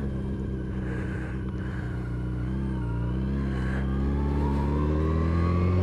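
A motorbike rides steadily away from an English village, its engine droning loud and continuous with a low, even hum and gradually rising pitch, with no talk.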